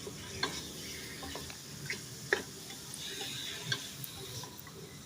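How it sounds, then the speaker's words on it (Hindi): Mutton pieces with garlic and ginger frying over medium heat in a pot, giving a soft steady sizzle broken by scattered scraping and tapping of a spoon as the meat is stirred, with no voices. "5 से 6 मिनट तक इसको भुनाई करेंगे।"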